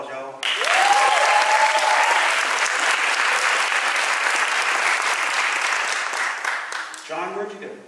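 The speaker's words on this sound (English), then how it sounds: "Round of applause, y'all." A crowd applauds at a 2022 college award ceremony: loud, steady clapping starts abruptly, holds for several seconds, then tapers off as a voice begins speaking.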